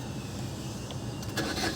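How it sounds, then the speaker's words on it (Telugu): A 2015 Maruti Swift VDI diesel starting on its self starter, a steady close engine rumble with a brief crank-like rise near the end, no talking over it. "సింగిల్ సెల్ఫ్లో స్టార్ట్ అవుతుంది బండి."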